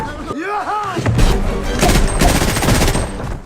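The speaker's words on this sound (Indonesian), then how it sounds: "tentara Jerman muncul dari rumah tersebut dan adu tembak pun terjadi" Film gunfire in a shootout with German soldiers bursts out as rapid automatic shots and heavy reports, loud and close, following a brief shout at the start.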